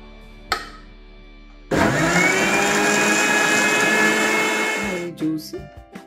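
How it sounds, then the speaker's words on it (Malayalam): Kitchen mixer grinder blending green mango pieces with ice cubes for juice: a sudden loud motor whir runs steadily for about three seconds, then winds down with rattling and clatter, after a brief click at the start. "മിക്സി അടച്ചിട്ട് ഒന്ന് അടിച്ചെടുക്കാം."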